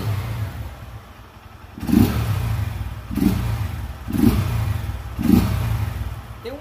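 A Honda Titan 150 motorcycle with its intake hose removed idles roughly, then its engine is revved in four sharp bursts about a second apart, each rising to a loud, rasping roar before it drops back down.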